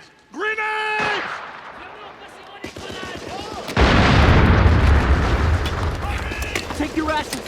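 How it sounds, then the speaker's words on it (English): Loud grenade blasts and gunfire in a World War I trench battle, a heavy rumbling explosion rolling over shouting voices and chaotic combat noise. "Grenades! Grenades! Grenades!"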